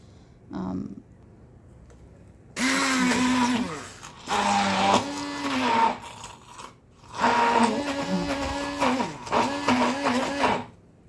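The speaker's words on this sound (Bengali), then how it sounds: "শাকগুলা আর রসুন মরিচ এগুলো সব একসাথে আমি নিয়ে ব্লেন্ডার জারে ব্লেন্ড করে নিতেছি আমি হ্যান্ড ব্লেন্ডারে ব্লেন্ড করে নিব" A hand blender whirs through pumpkin greens with garlic and chili in bursts, a loud motor whine that rises and falls with short pauses between runs.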